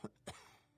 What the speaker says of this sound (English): Why is everyone coughing?